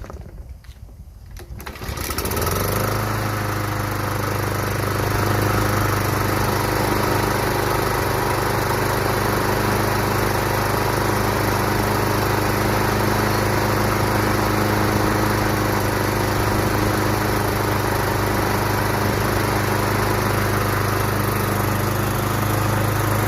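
A Craftsman Professional self-propelled mower with a Kawasaki 179cc engine starts up after a brief rustle, then runs at a steady, loud, even drone with a low hum and a whining overtone for about twenty seconds.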